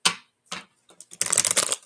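Playing cards are shuffled by hand for a tarot-style reading, a few short riffling bursts followed by a longer, denser riffle, close and clear with no talking.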